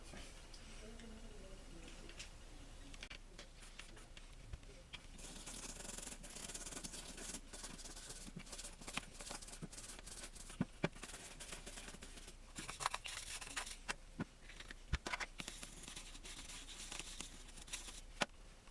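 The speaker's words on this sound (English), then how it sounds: "That brings us down to the rotor, or sorry, the spool. We're going to scrub it down." A spinning-reel spool from an Eagle Claw 7070 is scrubbed down during servicing, producing faint, continuous brushy rubbing with scattered small ticks and clicks, close and quiet.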